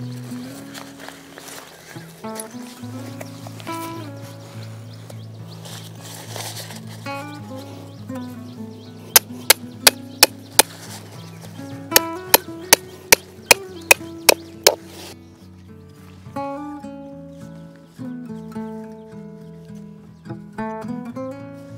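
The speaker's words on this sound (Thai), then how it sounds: "ก็ตอกตรงนี้นะครับก็ดึงออกมาแล้วก็ตอก" Snow Peak tent stakes are hammered into the ground, a run of sharp, loud metallic strikes in two quick bursts over a steady musical background, with no talk.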